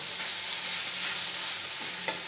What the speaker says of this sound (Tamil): கேரட் நல்லா வதங்கிடுச்சுங்க.